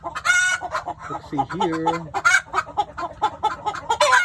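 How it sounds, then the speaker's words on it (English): Black chickens, including black water chickens, cluck in a breeding pen with a white rooster, a steady rhythm of near, busy clucks and calls, with one drawn-out call in the middle and a brief voice speaking. "So we have the black water chickens and the normal black chickens."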